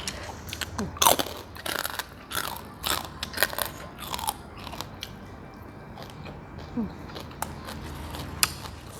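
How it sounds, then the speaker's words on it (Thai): Crunchy raw vegetables eaten alongside spicy Thai papaya salad with fermented fish sauce, giving a series of close, irregular biting and crunching sounds, some sharp and loud, with quieter chewing between and no talking. "ผักกรอบดีดี"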